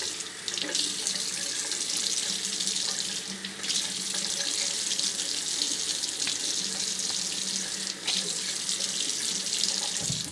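Water runs steadily from a bathroom tap into a sink during a wet shave with a pre-shave, a continuous broadband splash that stays even and close throughout, with brief dips where the flow is interrupted.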